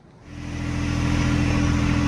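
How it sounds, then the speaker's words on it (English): A John Deere 2025R compact tractor's heavy engine idles while warming up in snowy Michigan, building to a steady low drone, with a humming tone throughout and no voices. "we got the tractor warming up"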